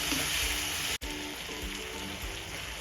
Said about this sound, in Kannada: ಟೊಮೆಟೊ ಹೆಚ್ಚಿಟ್ಕೊಂಡಿರೋದನ್ನ ಆ್ಯಡ್ ಮಾಡ್ಕೊಳ್ಳಿ. ಅದು ಸ್ವಲ್ಪ ಫ್ರೈ ಆಗಲಿ.